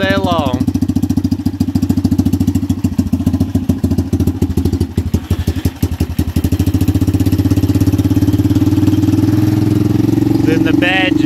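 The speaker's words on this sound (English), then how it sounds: "Fires right on up every time. We'll idle there all day long." An ATV engine fitted to a homemade golf cart starts and settles into a loud, steady chugging idle with rapid regular pulses, close up, with someone talking over it briefly.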